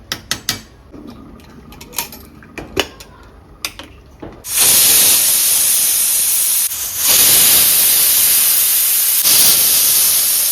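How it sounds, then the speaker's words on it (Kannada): A pressure cooker with vegetable pulao first gives a few scattered clinks and taps, then bursts into a loud, sustained hissing whistle of escaping steam that briefly dips and resumes. "ಇದು ಇವಾಗ ಒಂದು 3 ವಿಸಿಲ್ ಹೊಡಿಯೋಕ್ಕೆ ಬಿಡೋಣ"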